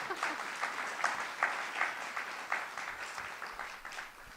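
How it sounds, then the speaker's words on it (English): Audience applause at a literature festival opening, a moderate, somewhat distant round of clapping with a few sharper claps standing out, steady throughout. "I feel like that needs some applause, yes."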